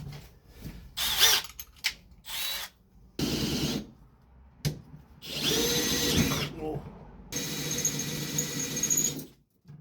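A power drill whines in repeated short bursts, drilling pilot holes into punched spots in metal, starting and stopping several times, with brief grinding as the bit bites; voices talk in the gaps.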